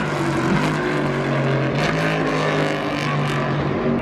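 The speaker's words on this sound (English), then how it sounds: "you can hear they're revving the engine, they're trying to get the crowd pumped up a little bit" NASCAR Gen 6 race car at the Darlington Southern 500, its engine revving for the crowd: a loud, continuous, throaty engine roar that holds steady throughout, with no talking over it.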